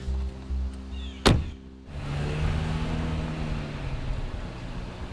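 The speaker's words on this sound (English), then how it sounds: "22-year-old Aaron Smith in that car, his brother driving him off to rehab" A car driving off: a sharp thunk, like a door shutting, followed by a brief hush and then a steady engine drone with faint rising tones as the vehicle pulls away. No one speaks.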